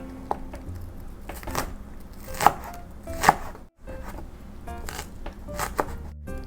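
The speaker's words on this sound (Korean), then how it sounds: "대파는 요것도 이렇게 갈라서 조금 잘자랗게 썰어 줄게요" Knife chopping green onion (daepa) on a cutting board: a steady run of quick, close, crisp knife taps with a few louder strikes, no voices.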